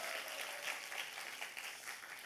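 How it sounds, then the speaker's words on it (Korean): A church congregation at a festival worship service gives a short burst of steady, faint applause heard from a distance. "자, 우리 박수 한번 합시다. 격려해 박수."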